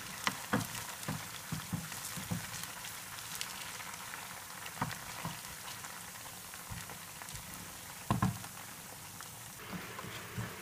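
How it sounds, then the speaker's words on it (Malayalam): Beef fries in oil over a medium-low flame, a soft continuous crackle and bubble with scattered louder pops and a few sharp clatters, steady throughout. "ഇനി ഇതിനെ നമുക്ക് മീഡിയം ടു ലോ ഫ്ലെയിമിൽ വെച്ച് വേണം ഫ്രൈ ചെയ്യാൻ"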